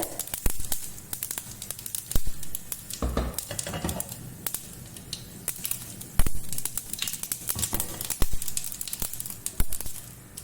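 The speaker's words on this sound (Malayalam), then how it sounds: "എണ്ണ ചൂടായിട്ട് കുറച്ച് കടുക് ഇടട്ടെ. കുറച്ച് ജീരകം ഇടുന്നുണ്ട്." Mustard and cumin seeds spluttering in hot oil in a pan for a curry, a steady close sizzle with frequent sharp pops and crackles throughout.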